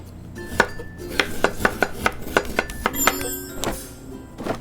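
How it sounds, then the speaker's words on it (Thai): Chopping food in the cooking game Chef Life: A Restaurant Simulator produces a quick series of crisp knife thunks on a board, about a dozen evenly spaced chops, followed by bright clattering kitchen cues near the end. "หั่นหั่นหั่นหั่นหั่น"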